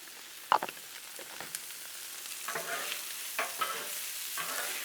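Peppers and onions fry in oil on a Blackstone griddle, making a low, steady sizzle with a few clicks of a spatula and light scraping, close by and fairly quiet, with no voices.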